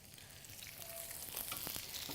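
Vegetables stir-fry in vegetable oil in a wok, a soft, fairly quiet sizzle with a few brief clatters as the pieces are tossed.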